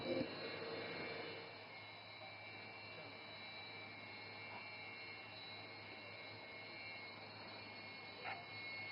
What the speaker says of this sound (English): And notice the aircraft is now opening full power.